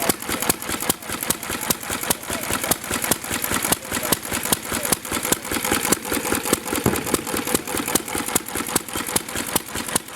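A McCormick Deering M tractor engine runs on its own with the choke off, a loud, close, steady idle of rapid even firing pulses that keeps going without a break.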